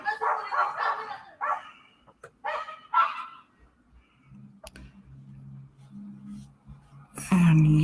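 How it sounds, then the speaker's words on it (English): A tiny 4-pound dog yaps in a quick series of sharp barks, followed by a quieter stretch with a low hum and a loud closing bark. No voices are heard. "And Yappy, the 4-pound attack dog"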